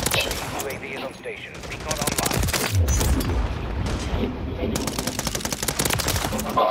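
Rapid automatic gunfire in a Call of Duty match, continuous bursts with booming impacts layered through the whole stretch, loud and close, while someone talks over the shooting.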